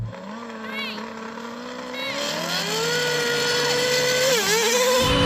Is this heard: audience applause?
no